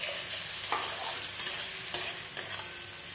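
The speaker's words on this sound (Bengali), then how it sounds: "মশলাটাকে ভালো করে এখন কষিয়ে নিতে হবে" Spice masala stir-fried in oil for a meat and potato curry, a continuous bright sizzle broken by several sharp scrapes and knocks of the spoon against the pan, close and fairly loud.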